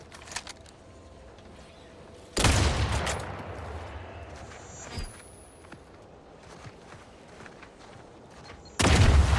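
Sharp gunshots in The Outer Worlds 2 on Very Hard difficulty burst out loud and sudden twice, several seconds apart, with a lingering rumble and faint scattered sounds between.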